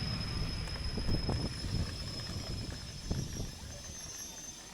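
Moroccan Al Atlas passenger train with first- and second-class carriages idling at a station, a steady low rumble and background hum with occasional soft knocks and clanks, no talk.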